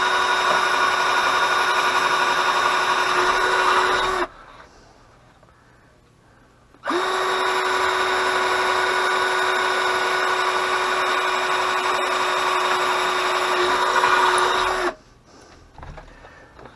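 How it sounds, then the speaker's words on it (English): Power drill boring holes through a wooden cigar box, running in two loud steady stretches with a brief quiet pause between, no talking. "Okay, now we got our holes drilled."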